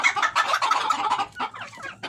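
Domestic chickens, apparently sick ones, cluck nearby in a close, steady run of busy clucks and short calls.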